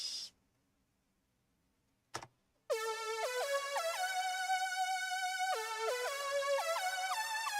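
Surge synthesizer playing its Brassy preset: after a brief blip and a short click, loud, bright, buzzy chords enter and hold, shifting pitch in stepped sustained notes with nothing else heard.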